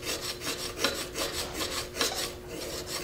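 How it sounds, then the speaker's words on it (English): A thin woodturning parting tool is sharpened on a diamond hone, a soft rhythmic rasping of metal stroked back and forth, about six strokes, close and quiet with no talking. "I sharpen this with a diamond hone"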